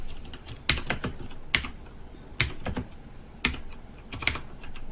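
Keystrokes on a computer keyboard while C++ loop code is typed, a handful of separate clicks and short bursts at an uneven pace, fairly close, with no talking.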